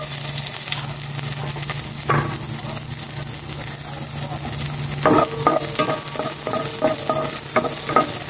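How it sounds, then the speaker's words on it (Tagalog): Garlic and chili hit hot oil in a frying pan, sizzling steadily up close, with scattered clinks and scraping stirs growing busier toward the end. "Kawaling may mantika. Ilalagay ko na to yung bawang tsaka sili."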